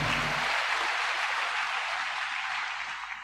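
Audience applause at a military academy commissioning ceremony, honoring the Deputy Commandant; a steady, dense wash of clapping that fills the whole stretch and fades slightly toward the end, with no voices over it.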